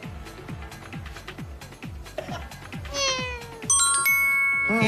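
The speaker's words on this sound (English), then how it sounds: "May pusa." A cat meows a few times, mid-distance, over a backdrop of rhythmic music, crowd noise and chiming tones during a live Filipino variety TV segment.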